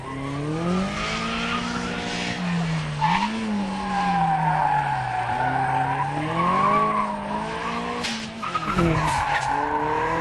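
A Toyota Starlet Turbo in a hill climb runs hard through corners, its engine note rising and falling between gear changes under a loud, continuous screech of tyres, with a sharp burst of noise near the end.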